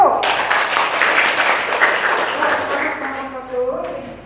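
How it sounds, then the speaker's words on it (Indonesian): A classroom audience claps for the first presenting group in a guidance session, a steady wash of applause that tapers off as voices carry on over it. "Nomor 1 kita beri aplaus untuk nomor 1"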